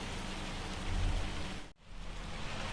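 Hail and rain pour down during a storm in the farming game Farming Simulator 25, a steady dense broadband hiss with a deeper rumble near the middle and a brief dip in the sound before the downpour resumes.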